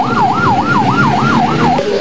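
An ambulance siren arrives at the scene of a tricycle rollover crash, wailing loud and close in steady, evenly repeating up-and-down cycles with no voices over it.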